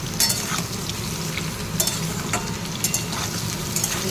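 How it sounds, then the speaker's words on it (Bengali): Ridge gourd and potato pieces fry in a pan with a steady close sizzle, broken by short scraping stirs of a spatula throughout, with no voices. "ঝিঙেগুলো দিয়ে একটু ভাজাভাজি করি"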